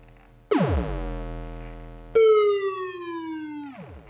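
Two gritty, buzzy hits from a Nord Drum 3P synthesizer, each a sustained electronic tone whose pitch sweeps downward, the second ending in a quick drop. Loud and close, no voices.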